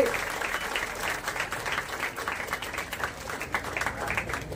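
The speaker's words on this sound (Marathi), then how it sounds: "जोरदार टाळ्या वाजवूयात या कौतुकासाठी" Sustained, loud applause from an audience at a student award and felicitation ceremony, steady clapping filling the whole stretch with a dense crowd texture.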